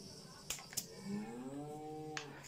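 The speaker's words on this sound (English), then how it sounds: "Like cows." Cows moo in a long, low, drawn-out call that bends in pitch, heard fairly clearly against a quiet background with a couple of sharp clicks.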